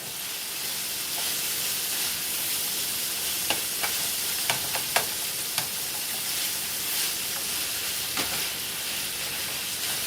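Ground beef seasoned with dried oregano sizzles steadily in a pan, with several scraping clicks and taps of a stirring utensil scattered over the continuous frying hiss, close and moderately loud.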